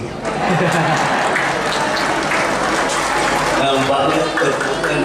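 A hall audience at a Muhammadiyah Halal Bihalal gathering breaks into sustained applause during a lecture, a dense, loud wash of clapping lasting several seconds with crowd murmur and faint laughter mixed in.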